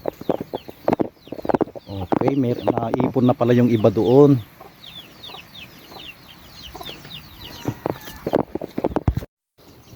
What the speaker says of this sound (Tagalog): At may mga alaga na rin siya manok dito.